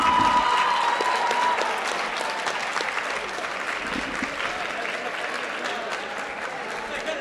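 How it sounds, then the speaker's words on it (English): Sustained round of applause from a Model UN conference audience during a general assembly session, steady and full throughout, gradually easing slightly in loudness, with no talk over it. "Please give them a round of applause."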